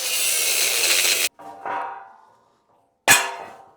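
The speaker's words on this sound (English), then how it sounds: "I have to grind this stuff down a little more." A cheap Harbor Freight angle grinder with worn bearings grinding metal, a loud harsh burst that cuts off, then a whining spin-down and a second sharp burst, close and with no talking.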